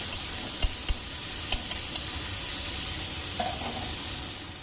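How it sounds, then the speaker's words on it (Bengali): Prawns frying in a kadai with dried chilli and bay leaf for a bottle gourd prawn curry, a continuous close sizzle with a few sharp ticks and spatula taps near the start, no voices. "চিংড়ি মাছ ভালো করে ভেজে নিতে হবে।"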